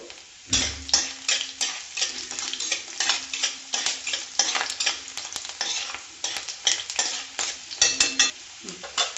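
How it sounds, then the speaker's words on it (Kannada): Fenugreek seeds, ginger and garlic crackle and fry in hot oil for a fish curry, dense rapid pops and spits over a steady sizzle with rhythmic stirring scrapes, close and loud, no speech. "ಮೆಂತ್ಯ ಸ್ವಲ್ಪ ಚಟಪಟ ಅನ್ನಲಿ"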